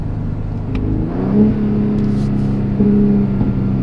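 A Gen 3 Ford Raptor with a 3.5L V6 and AWE Switch Path exhaust revs up on a downshift, with two rising engine swells over a steady low drone, loud and close, with no talking.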